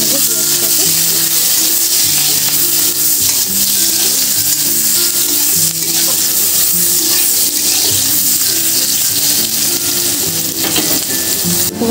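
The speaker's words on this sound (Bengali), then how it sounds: "আর এর মধ্যে দিয়ে দিচ্ছি পেঁয়াজ কুচি। এটাকে ভালো করে একটু ভেজে নেবো পেঁয়াজটাকে।" Chopped onions fry with torn dried red chillies in a pan, a loud, constant close sizzle with scraping stirs throughout, and a voice speaks over it.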